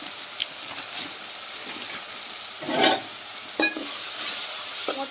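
Tomatoes with rock salt and turmeric frying in a pan, a steady close sizzle broken by scraping stirs.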